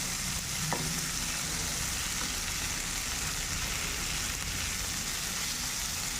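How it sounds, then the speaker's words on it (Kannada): Tomato sautéed with fried onion in a pan, in a dill-leaf stir-fry dish, makes a steady, dense close-up sizzle throughout, with a faint stirring knock early on and no talking. "ಈಗ ಟೊಮೆಟೊವನ್ನು ಹಾಕಿಕೊಳ್ಳೋಣ ಅರ್ಧ ಟೊಮೆಟೊವನ್ನು ಕಟ್ ಮಾಡಿಕೊಂಡಿದ್ದೇವಲ್ಲ ಅದನ್ನು ಹಾಕಿಕೊಳ್ಳೋಣ ಮತ್ತು ಚೆನ್ನಾಗಿ ಬಾಡಿಸಿಕೊಳ್ಳೋಣ"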